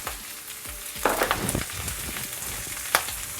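Prawns added to a pan of cooked rice for Chinese prawn fried rice sizzle and crackle steadily, with scraping stirs and bursts of frying noise throughout.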